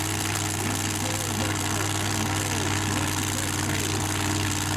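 A blown alcohol dirt dragster engine idles steadily with a deep, loud, continuous rumble and a mechanical drone that holds level from start to finish.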